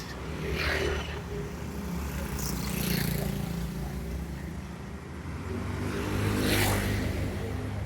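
Scooter and car traffic on a street on Nusa Lembongan island, a continuous engine rumble with passing swells as vehicles go by, fairly loud and close with no talk.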